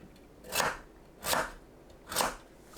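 A knife cuts through kabocha squash, trimmed at both ends and softened in a microwave, into pieces of 1 to 1.5 cm: three evenly spaced, quiet crunchy chops about a second apart, alone.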